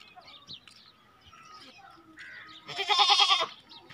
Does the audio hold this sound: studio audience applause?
no